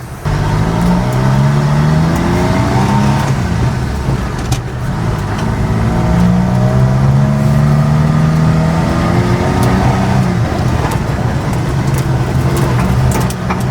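Mini truck engine with a custom-built exhaust, heard from inside the cab: a steady, loud low drone with gently rising and falling tones as it runs, continuous with no talk.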